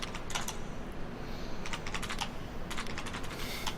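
Rapid keystrokes on a computer keyboard in a video game clatter in uneven bursts against a steady background hiss, close and clear with no voices.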